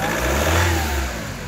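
A car engine being checked for a suspected burnt head gasket revs up sharply and then drops back toward idle in one short, close rise and fall.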